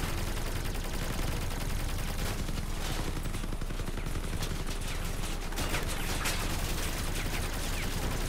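Dense, continuous gunfire from a Crossout vehicle battle, with rapid bursts layered over each other at a constant loud level for the whole stretch.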